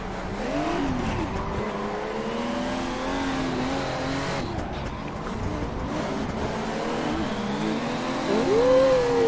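Cars drifting at a Japan drift matsuri event in the game Assetto Corsa, with engines revving hard and tires squealing continuously throughout, several cars close together, with a louder surge of engine noise near the end.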